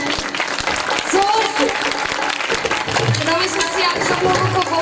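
An audience at a gathering gives steady, dense applause with many hands clapping together, while voices carry on underneath the clapping.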